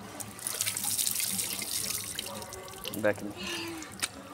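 Water gushes from an opened tap into a sink, a hissing, splashing stream with drips and trickles, while a person speaks briefly over it.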